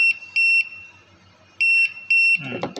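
Repeated high electronic alarm beeps in three short bursts from a GAUR-21 device, loud and piercing, followed by a brief clatter of handling noise at the end.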